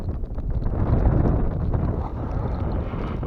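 Strong, piercing winter wind buffets the microphone during ice fishing for pike with tip-ups in a blizzard, a steady broadband roar with gusts throughout and no talk.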